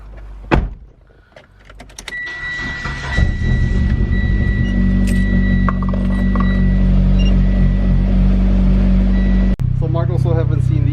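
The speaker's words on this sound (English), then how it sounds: "So let's fire up the car." Turbo Lancer starting up after a click and short crank, settling into a loud, steady, deep idle that was running a little rough earlier, with a brief clunk and a voice talking near the end.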